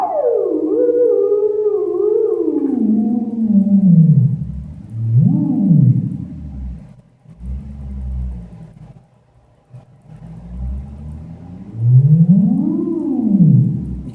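Gliding, swooping electronic tones rise and fall through a deep, echoing tunnel reverb effect box, a theremin-style pitch sweeping as an antenna moves, with no talking.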